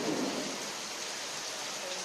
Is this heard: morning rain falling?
yes